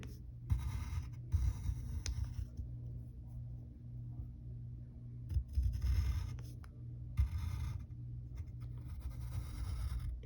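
Pencil strokes on paper while a cartoon cat's arm is sketched: quiet, close scratchy bursts of drawing come in several separate runs with pauses between, over a faint low rumble.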